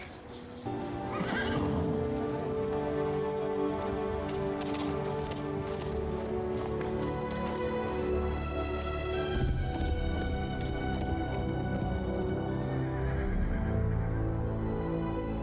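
Horses whinny and gallop in a wide shot from a Lord of the Rings fantasy TV series, with a loud neigh followed by steady hoofbeats under a sustained orchestral score.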